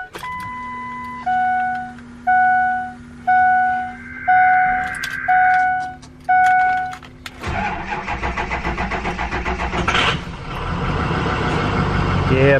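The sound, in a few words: Ford 6.0 Powerstroke diesel truck engine starting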